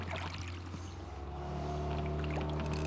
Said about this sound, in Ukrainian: Поки гудить моторка і пищать дівки